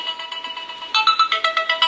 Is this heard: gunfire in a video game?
no